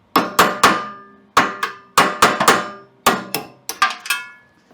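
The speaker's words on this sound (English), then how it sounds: "I'm just going to try just a punch and a hammer." A hammer strikes a metal punch while working on a snow blower, sharp ringing blows, mostly in quick pairs and triplets, loud and close with short metallic decays.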